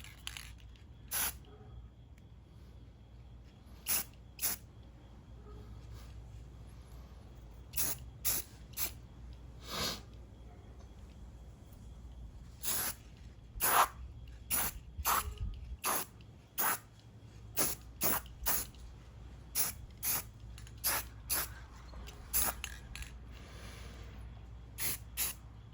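A spray can lays tiger stripe camouflage paint onto a gun in many short, sharp hissing bursts, spaced irregularly and heard close against a quiet low background hum.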